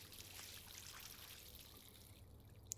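Water pours and trickles steadily in the Life is Strange video game, a continuous soft splash as a character rinses their face, fairly quiet and alone with no talk.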